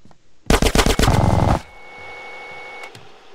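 Rapid bursts of automatic gunfire in GTA San Andreas, a loud rattling volley lasting about a second, then a quieter lingering hum with a couple of faint clicks.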